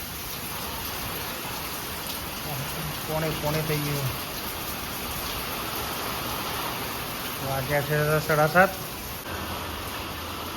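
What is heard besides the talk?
heavy rain during a strong storm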